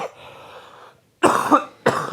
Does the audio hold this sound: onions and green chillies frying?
no